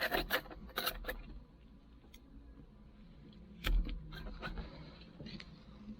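A paint scraper rasps across the cab of a John Deere 4960 tractor in short, close strokes, quiet overall, with a few sharper scraping bursts and a brief knock partway through.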